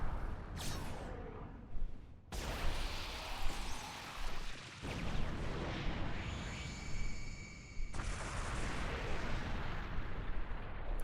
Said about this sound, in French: C'est l'explosion de zinzin.